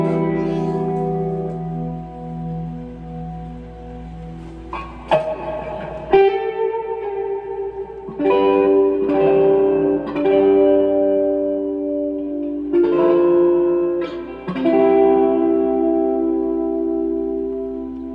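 Firefly FFTH semi-hollow electric guitar plays chords and single notes through a heavy reverb wash, each strum blooming and trailing into a long shimmering tail, with no voices.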